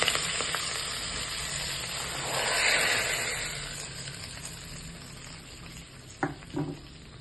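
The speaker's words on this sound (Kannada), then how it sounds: "ಈಗ ಒಗ್ಗರಣೆ ಹಾಕ್ಕೊಳ್ಳೋಣ." Spices tempering in hot oil for an Anjal fish curry, with chillies and curry leaves, give a steady close sizzle that swells briefly mid-way, ending with a couple of sharp clinks from a pan or spoon.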